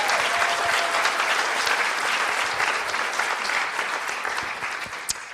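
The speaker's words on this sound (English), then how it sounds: "Give them all a round of applause." Sustained applause from a public forum audience greets the panelists, a dense wash of clapping that holds steady and then tapers slightly near the end.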